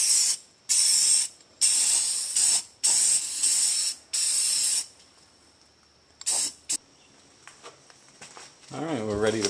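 Rust converter sprayed onto a rusty car unibody frame comes in about seven close, loud hissing bursts separated by short pauses. A few brief sprays follow later, and a voice speaks near the end.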